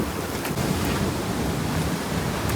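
Sea waves wash against the seashore in a steady, loud, close roar, with wind buffeting the microphone throughout.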